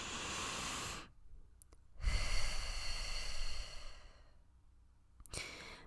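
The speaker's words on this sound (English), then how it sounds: "take a deep breath with me" A person takes a deep breath: a long, audible breathy exhale, a short pause, then a slow inhale and another sighing release, close and clear with no speech.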